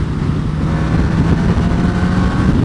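Suzuki GSX-S1000F motorcycle with a Renthal fat bar cruising at 70 mph in sixth gear under 5,000 rpm, a steady loud engine drone mixed with heavy wind rush, continuous with no talking.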